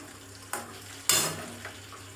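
Batter-coated topse fish deep frying in plenty of oil, with a steady low sizzle broken by a few sharper bursts and clinks as pieces are turned, fairly quiet and close.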